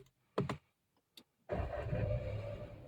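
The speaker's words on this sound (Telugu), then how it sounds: "So let's start the engine." A Skoda Slavia's engine is started from inside the car: a few faint clicks, then the engine catches and settles into a steady, moderately loud idle.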